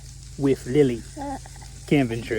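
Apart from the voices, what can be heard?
burgers sizzling while frying at a campsite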